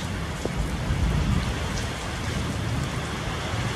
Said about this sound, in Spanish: Y se escucha que viene más fuerte la lluvia, bien bonito.